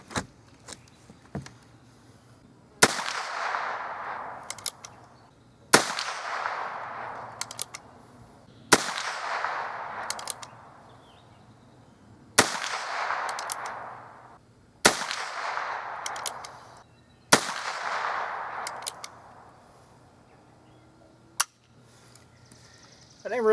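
A Heritage Rough Rider Rancher revolver fires .22 magnum rounds at a 50-yard target: six sharp, loud reports spaced about three seconds apart, each trailing off in a short echoing decay, with faint handling noise between shots.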